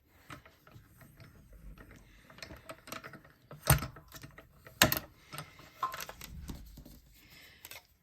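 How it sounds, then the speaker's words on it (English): Paper being cut in a mini cut-and-emboss machine, heard as soft mechanical ticking and creaking with two sharper clunks near the middle. It is close, quiet and has no talk over it. "And then I'll bring in my mini cut and emboss machine and we will cut that out."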